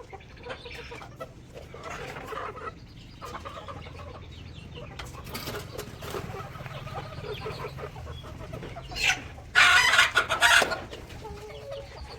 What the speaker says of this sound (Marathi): तर ह्या अशा आपल्या सगळ्या कोंबड्या आहेत त्या